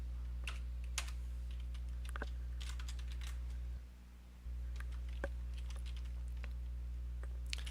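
Scattered keystrokes on a computer keyboard while working in a terminal on a computing cluster, irregular clicks over a steady low electrical hum, with a brief dip in the background midway.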